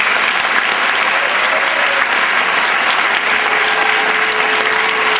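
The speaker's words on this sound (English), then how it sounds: "I think a great round of applause for Mr." A crowd at a gathering for a state champion high school soccer team gives a sustained, loud round of applause, dense and continuous with no talking over it.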